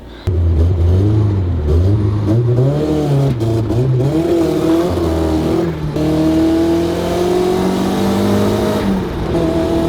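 A Mazda single-rotor rotary engine revs up and down repeatedly, pitch sweeping high then settling into a sustained rising drone, loud and close with no talking.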